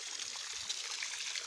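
Hot spring water at Bala Tedo in Karachuonyo, Homa Bay County, trickles and flows out of the ground, a soft continuous babbling heard close and quiet with no voices.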